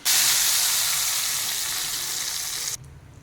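Hot tempering poured into dal khichdi, giving a loud, bright sizzle that bursts up at once and fades slightly over about three seconds before stopping abruptly, with no talking.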